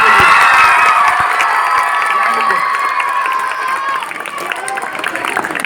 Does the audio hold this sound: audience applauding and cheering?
yes